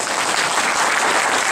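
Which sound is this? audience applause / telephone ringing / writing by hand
audience applause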